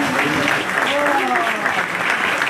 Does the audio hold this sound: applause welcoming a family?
yes